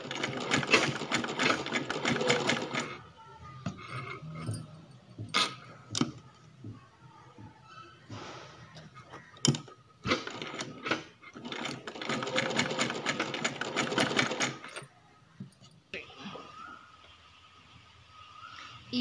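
A sewing machine stitches piping around a blouse back neck in loud, rapid bursts of whirring, separated by quieter pauses with clicks and handling noises, the motor running close and alone without talk.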